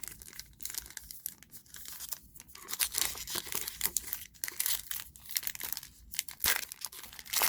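Foil wrappers of Topps Heritage High Number 2019 baseball card packs are torn open up close, with crinkling, rustling and ripping in irregular bursts and no talk.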